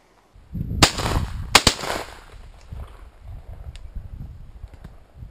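Gunshots fired while hunting: two sharp, loud cracks about a second apart, then fainter rustling and low outdoor noise.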